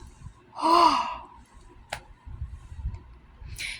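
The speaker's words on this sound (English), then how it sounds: "I'm yawning" One drawn-out, breathy yawn with a voiced rising-and-falling tone sounds close and moderately loud, followed by quiet room noise and a couple of brief clicks.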